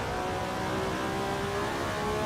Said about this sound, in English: I've got the Ford noises now.